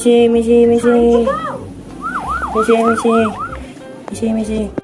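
Wailing siren of an arriving fire engine, rising and falling sweeps repeating close and loud, with a steady horn-like tone underneath and people talking over it.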